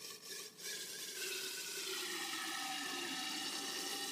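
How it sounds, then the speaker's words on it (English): Liquid oxygen being poured into a test tube hanging in front of glass, giving a steady hissing, bubbling rush of boiling liquid that fills the whole clip at a moderate level with no talk. "I'm going to pour this into a test tube I have hanging in the front of the glass here."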